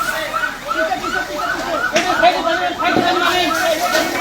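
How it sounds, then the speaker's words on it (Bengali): A fire engine siren wails in rapid repeating cycles, loud and close, over crowd noise and shouting voices at a medicine shop fire. "ফায়ার সার্ভিস দ্রুত ঘটনাস্থলে আসে"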